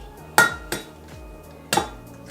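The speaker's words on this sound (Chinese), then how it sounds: "首先我们把鸡蛋打碎。" Eggs are cracked for Japanese tamagoyaki, three sharp, close taps against a hard rim with short ringing decays, spaced unevenly in an otherwise quiet kitchen.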